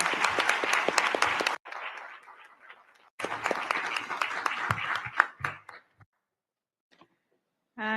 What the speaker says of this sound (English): those extra seconds of applause